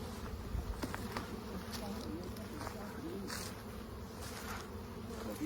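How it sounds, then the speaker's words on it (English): Honeybees buzz steadily around a hive frame as a drone emerges from its brood cell, a close, continuous droning hum with a few faint clicks and rustles. "Oh, here's a drone brood emerging right now. A drone coming out of the cell right here."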